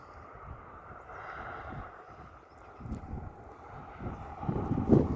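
Steady wind rushes across the microphone outdoors, with low buffeting gusts that swell louder toward the end.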